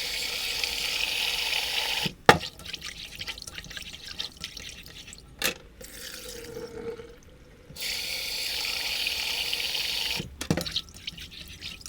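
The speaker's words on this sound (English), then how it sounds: "I need to wash the rice." Rice being washed under a running tap in a sink, a continuous splashing water stream broken by a few brief pauses and clunks, steady and fairly close.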